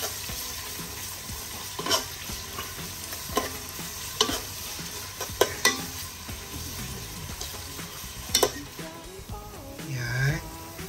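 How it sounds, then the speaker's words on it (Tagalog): Chicken breast adobo with chicken liver and gizzards is stirred in a pan, giving a steady sizzle with repeated scraping strokes of a utensil against the metal at irregular intervals. "So we're going to mix it well. Halu-haluin lang. Hanggang sa mag-medium brown siya."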